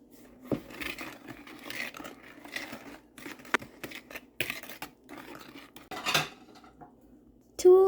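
Cookie batter with an egg is mixed in a bowl by hand, with repeated scraping and clinking strokes of a utensil against the bowl in uneven bursts, close by and without talk.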